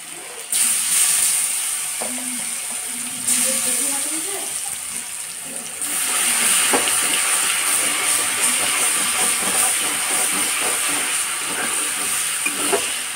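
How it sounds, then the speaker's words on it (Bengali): Garlic drops into hot oil with sugar already caramelized, giving a continuous sizzle with scattered crackles and stirring scrapes, while a person talks over the frying early on. "ইতিমধ্যে চিনি দিয়ে চিনিটাকে লাল করে এবার রসুন দিচ্ছি"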